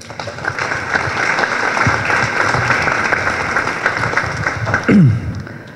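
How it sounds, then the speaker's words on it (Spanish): Audience applause at a Peruvian judicial anti-corruption system anniversary ceremony, honoring the president of the judiciary: steady, dense clapping from a hall crowd throughout, with a brief louder swell near the end. "Aplausos para él, por favor."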